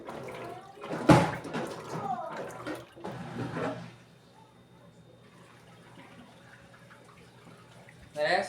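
An Electrolux Essential Care 14 kg washing machine, model LED14, fills with water for its rinse cycle, a faint steady rush of water running mostly alone after a brief stretch of talk and handling noise.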